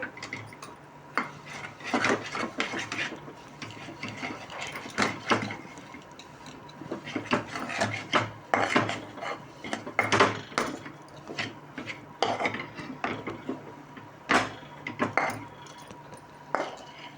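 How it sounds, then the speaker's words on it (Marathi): Fresh coconut vadi mixture is patted by hand into a ghee-greased plate in a home kitchen, giving irregular close taps, soft thuds and light clinks of utensil against metal, with no talking. "आता ह्या डिशमध्ये वड्या थापून घेते आणि गार झाल्या की कापून घेईल"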